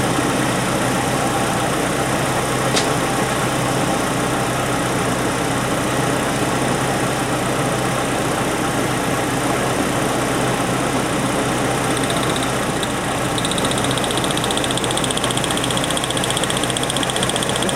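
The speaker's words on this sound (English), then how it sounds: "Okay, now we have a spark misfire." A car engine idles with an induced spark misfire, giving a steady, continuous broadband drone at even loudness throughout, with no voices.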